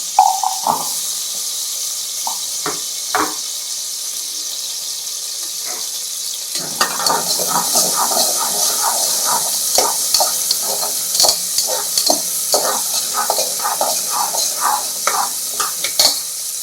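Small shallots frying in a hot pan for mutton salna, a few isolated scrapes first, then a steady close sizzle with rhythmic stirring and scraping continuing to the end.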